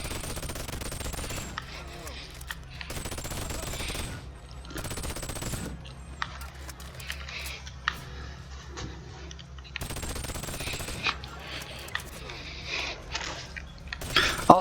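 A gun firing in the Boneworks VR game, with repeated bursts of rapid automatic shots separated by short pauses, moderately loud, with a voice speaking between bursts.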